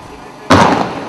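A single sudden, loud demolition blast that fails to bring the building down, going off only on the ground floor, bursts out of quiet background noise and trails off over a fraction of a second.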